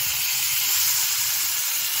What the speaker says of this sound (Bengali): চলো মাছটা ভেজে নিতে